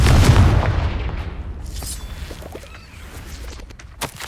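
Confringo blasting spell explosion in Hogwarts Legacy, one heavy booming blast at the start whose rumble decays over several seconds, followed by faint debris clatter and a small pop near the end.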